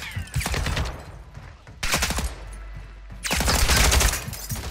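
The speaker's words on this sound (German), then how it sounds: "Alle schießen." Gunfire in the video game Call of Duty DMZ comes in three loud bursts of rapid shots, separated by brief quieter gaps.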